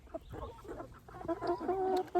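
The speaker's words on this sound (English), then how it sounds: "little rooster wants a bite" A small backyard rooster and hens cluck and murmur close by in a busy coop at feeding time, with soft overlapping calls and faint scratching.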